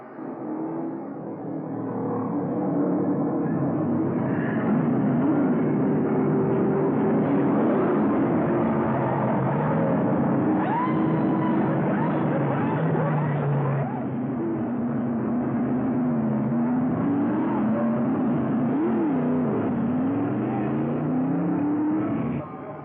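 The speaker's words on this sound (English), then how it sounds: "let's watch and listen as they all make a pit stop." Stock race cars at Evergreen Speedway in a 1991 Winston West race, engines droning and revving as they pull onto pit road under caution, a sustained mid-distance roar with rising and falling pitch.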